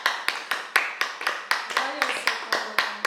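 Slow, steady clapping after an informal sung song, about a dozen sharp claps spaced evenly roughly every quarter second, close and fairly loud, with a brief voice murmuring in the middle.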